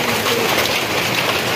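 Rain falls steadily as a dense, unbroken hiss of drops hitting surfaces, loud and close throughout. No voices are heard.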